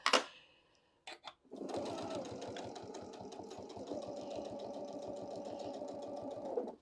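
A domestic sewing machine stitches fabric for a yin-yang bag, starting with a few short bursts before running in one steady, rapid mechanical whir, nearby and fairly quiet.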